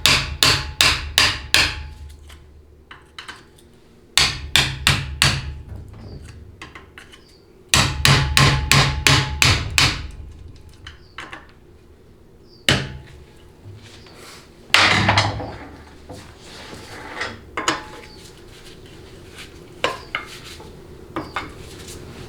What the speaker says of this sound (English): Some smart taps is all you really need.